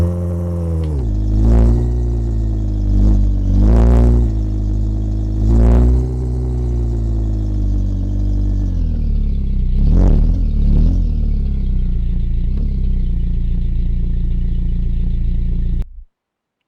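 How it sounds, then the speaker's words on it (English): A BMW car with no exhaust fitted runs under its own power, its loud raw engine droning steadily with several revving surges and a clattery, unmuffled rasp, close by, then cutting off abruptly. "So the BMW at least now moves under its own power."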